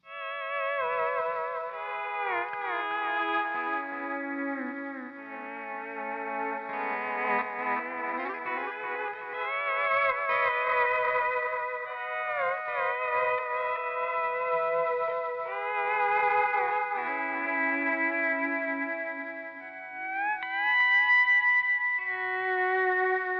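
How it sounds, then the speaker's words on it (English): Electric guitar run through a J. Rockett Alien Echo delay pedal, playing sustained melodic lines with dark, smeared echo repeats and a spacious ambient wash, steady and close throughout with no talking. "I can do a little bit darker echo and really create an ambience without such an actual delay sound."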